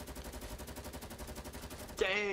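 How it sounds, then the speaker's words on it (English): A light machine gun in Fortnite fires a long, steady burst of rapid, evenly spaced shots, loud and close, ending in a brief, brighter game sound. "Make sure you kill him with your light machine gun."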